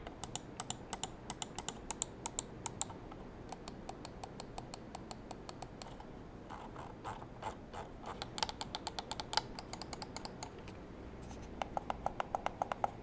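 Crisp clicks from a Dream Machines DM9 Skill gaming mouse tap out in quick bursts and runs, some rapid and evenly spaced, others sparse, close and dry with no voices.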